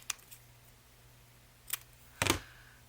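Scissors snip through paper ephemera at a crafting table, with a faint click early on, a brief snip midway and a louder, sharper cut near the end against a quiet background hum.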